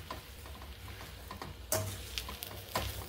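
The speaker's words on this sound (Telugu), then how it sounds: "అన్నీ మిక్స్ అయ్యేలాగా కలుపుకుంటూ స్టవ్ని లో ఫ్లేమ్లో పెట్టి ఒక 5 minutes కుక్ చేసుకోవాలి" A spoon stirs gongura pachadi in a pan over a low flame, with soft scraping and a few sharper knocks over a faint sizzle, quiet and close.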